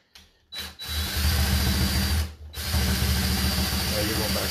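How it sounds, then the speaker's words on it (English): A power drill whirs steadily into cedar wood in two long runs, a short burst at the start, then sustained grinding bites with brief pauses between. "That's what I'm going to drill into."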